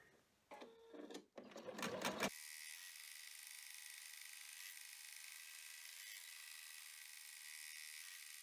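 An embroidery machine stitching the outline of an in-the-hoop golf ball holder gives a steady, even mechanical whir, after a few brief clattering bumps at the start, continuous and close with no voices.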